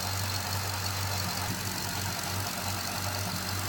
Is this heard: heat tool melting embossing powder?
no